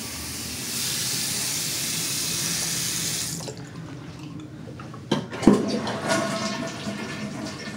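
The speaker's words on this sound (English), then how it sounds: "Toilet flush is fine." A household toilet flushes with a steady rushing of water that cuts off, followed by gurgling and refilling sounds at close range in a quiet bathroom.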